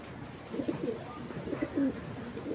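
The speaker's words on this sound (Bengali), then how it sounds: "দেখছেন কবুতরটা কত সুন্দর" Domestic pigeons of racer and fancy breeds, kept in pairs for sale, coo close by in soft, low, rolling calls that repeat in several bursts, with no talking.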